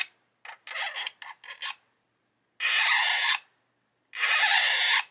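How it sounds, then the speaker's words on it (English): A hobby knife scrapes plastic on a 1/24 Airfix Spitfire Mk.IXc scale model kit, first in several short quick rasps, then two longer, louder scraping strokes, close up with no talk. "I'm going to use my knife, come along and just scrape"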